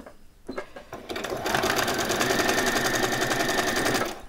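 A sewing machine runs a seam along a t-shirt arm, starting with a few short stitch bursts, then running steadily and close at a fast, even rhythm for about three seconds before stopping.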